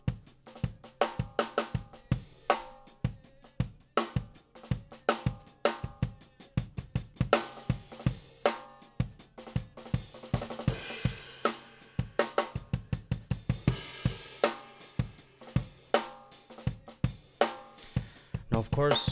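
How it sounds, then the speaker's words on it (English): Dry room-mic recording of a full drum set with no effects: a steady groove of sharp kick and snare hits and cymbal washes, played at moderate level with a few busier fills. "It's recording the whole drum set"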